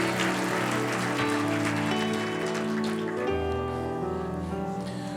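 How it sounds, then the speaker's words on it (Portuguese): A church congregation claps during a Portuguese-language sermon, the applause blending under sustained keyboard or organ chords that dominate the sound, the overall level steady throughout. "Mistura o seu aplauso com glória a Deus aí"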